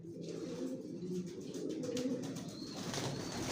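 Racing pigeons of the Johnson grizzle racer line cooing close by in a loft, soft repeated low coos layered over one another, with no talking.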